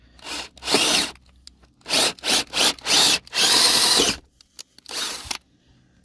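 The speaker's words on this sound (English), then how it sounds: "So we got our big drill, drill bit." A power drill with a large bit whirs in short bursts, then one long sustained run boring through a house wall, with brief pauses and small clatters between, close by.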